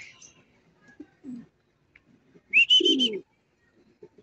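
Pigeons coo in a short, throaty burst near the middle, with a few soft calls and faint rustles around it and a brief high chirp at the start, no talk.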